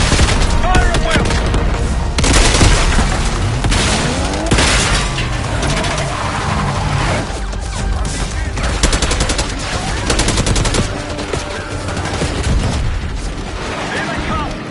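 Dense gunfire fills a Call of Duty Black Ops 6 battle: rapid automatic bursts, sharp single shots and heavy booms overlap continuously and loudly, with voices and game sounds mixed underneath.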